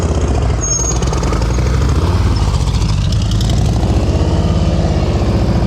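Motorcycle engine held steadily on the throttle during slow-speed practice riding in Texas, a loud, continuous low rumble with slight surges throughout, no talk.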